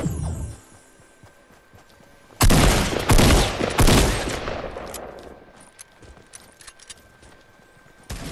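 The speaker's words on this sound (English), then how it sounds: "I hit him with the hunting rifle" Gunfire from a hunting rifle in the video game Fortnite: a loud burst of sharp shots crashes in near the start, followed by a few more scattered cracks and softer trailing impacts, with no talking.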